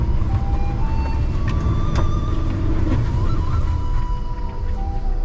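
A Jeep Renegade on ordinary tyres strains to climb a muddy dirt road, its engine droning low and loud with a wavering rising whine, no voices.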